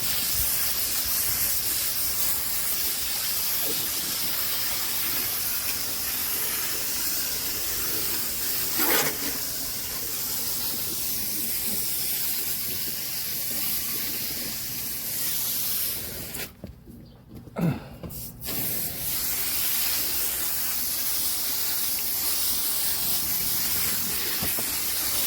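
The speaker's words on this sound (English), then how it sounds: "just going to kind of backwash it." A steady water spray hisses against the coil of a Trane unit during a backwash cleaning, the hiss broken briefly midway when the spray stops, then resuming loud and close.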